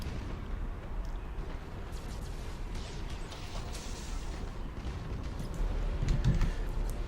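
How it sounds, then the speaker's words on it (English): A Nova Cannon fires in a space fleet battle video game, a dense, continuous booming rumble that holds steady and swells louder toward the end, with no voices. "Fire the goddamn Nova Cannon."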